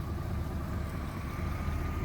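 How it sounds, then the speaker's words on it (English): An RV engine idles steadily after repairs, giving a continuous low rumble with an even hum and no revving, fairly quiet and close, with no talking. "It's been idling pretty well"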